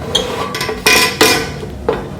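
A Philips HD9218 air fryer's compartment is pulled open, giving a few sharp plastic clunks and knocks close by in quick succession, with no talk.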